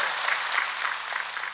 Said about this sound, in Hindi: नहीं, तालियां नहीं, आनंद नहीं आ रहा आपकी तालियों का